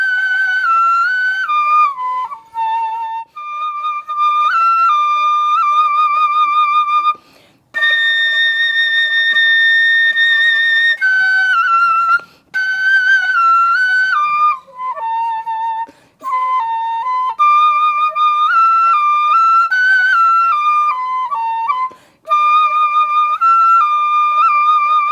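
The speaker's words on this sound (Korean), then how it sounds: "그럼 소금 소리 한번 들려드릴게요." A sogeum, a small Korean bamboo flute, plays a bright, clear melody alone, with held high notes and quick ornamented runs, separated by brief breath pauses.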